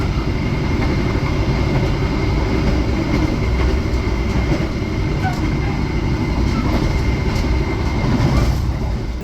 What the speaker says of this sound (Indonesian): ini kita menyusul KA Barang Peti Kemas